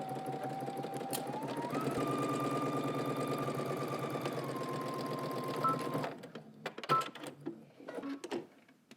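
A sewing machine runs steadily for about six seconds, stitching a pant seam at a 5/8-inch seam allowance toward the crotch, its motor whirring with a rapid needle rhythm, then stops and leaves scattered handling clicks.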